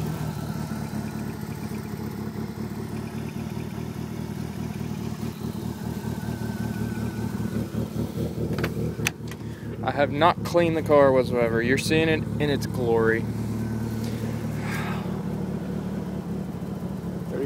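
A DSM car engine idles steadily and nearby with a low, even rumble throughout, while someone talks over it in the middle.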